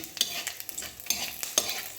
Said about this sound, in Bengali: এতে একবার ছ্যাঁকা দিতেই হবে তরকারিটাকে পাঁচ ফোড়ন দিয়ে